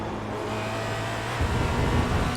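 Formula Renault 2.0 race car in iRacing gives a continuous engine whine with steady harmonics, and the low rumble grows slightly louder partway through as it drives on.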